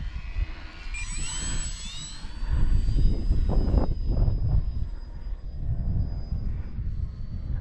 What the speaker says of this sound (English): What a beautiful aeroplane.